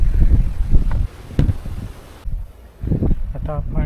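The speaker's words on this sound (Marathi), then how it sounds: "मस्त वारा लागतं यार इकडे." Wind gusting across the hilltop of Korlai Fort near Revdanda on the coast, buffeting the microphone in rough, uneven bursts, with a brief voice near the end.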